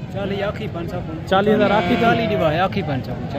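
Mundri sheep at a goat farm in Mundra giving a few wavering bleats, close and loud, with people talking through and between the calls.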